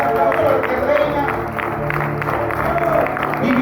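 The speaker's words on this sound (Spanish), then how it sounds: "Dale un fuerte aplauso al que vive, dale un fuerte aplauso al que reina" A church congregation applauding during a sermon, continuous dense clapping and crowd noise blended with music and voices throughout.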